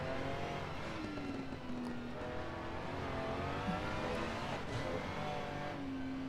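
A Ferrari 296 engine accelerates on track at Circuit Paul Ricard, revving and rising in pitch through the gears as a steady, fairly loud drone with no talk.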